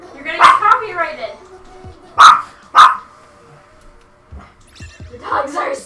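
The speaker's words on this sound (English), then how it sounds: "The dogs are singing." Several dogs bark in loud, close bursts, two sharp barks standing out in the middle, while people talk and exclaim around them.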